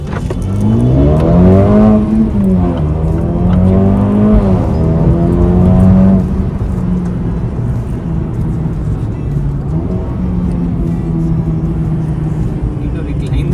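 A Mercedes A35 AMG with a decat downpipe and Stage 2 ECU tune in Sports Plus mode revs hard, its engine note rising and falling before settling into a lower drone, with people talking over it.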